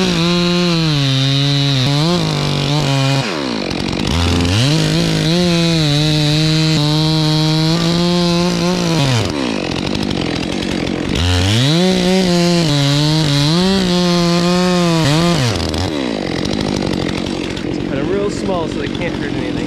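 Stihl MS 400c chainsaw cutting wood, loud close revving bursts that rise under load, drop back to idle between cuts, and rev again in repeated passes.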